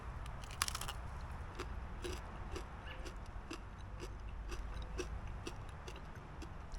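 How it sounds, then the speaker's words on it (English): Close, crisp crunching from steady chewing of fried invasive shore crab, with repeated sharp crackles over a low background rumble. "It's crunchy, but it does not feel like I'm eating shell."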